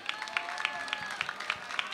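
An audience at an MC battle claps and cheers while voting, a steady wash of crowd noise with sharp individual claps poking through, lively and fairly close.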